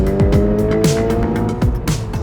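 A Toyota GR86 with a six-speed manual and rear-wheel drive revs hard through repeated upshifts, its engine note climbing and dropping in quick steps, loud and close with no talk.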